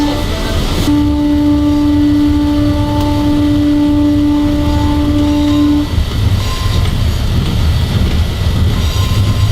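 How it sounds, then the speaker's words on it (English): Train on the rail line near Tema, loud and close: a long horn blast sounds over heavy rumbling and wheel noise that continues steadily after the horn stops. "just wait for the train to pass so you can cross safely."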